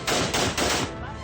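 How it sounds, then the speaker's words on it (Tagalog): Rapid bursts of M16 Armalite rifle fire from a group of men at night in a remote area of Arayat, Pampanga, sounding as dense, loud, overlapping shots, close and continuous. "Salit-salitang pinaputok ng grupo ng kalalakihan ang M16 Armalite rifle sa liblib na lugar sa Arayat, Pampanga noong Sabado ng gabi."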